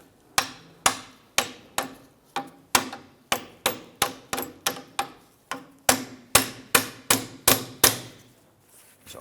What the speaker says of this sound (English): I'm going to go ahead and give this clamp a few bonks.